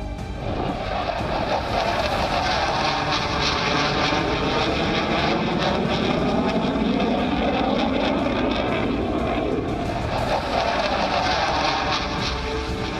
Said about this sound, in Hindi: आसमान में उड़ते भारत के इन फाइटर की गर्जना तो दुश्मन तक पहुंच ही गई होगी